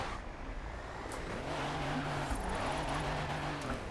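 Race semi truck sliding sideways in Forza Horizon 4, its engine droning steadily under a drawn-out tire squeal that rises and falls across the slide.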